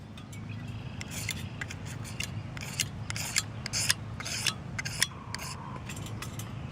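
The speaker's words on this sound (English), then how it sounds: "with this stuff you're going to want to scrape off a quarter-sized amount, and that can take a while" A magnesium fire-starter block is scraped in a series of short, uneven rasping strokes that pause briefly between them, close up and fairly quiet over a low background rumble.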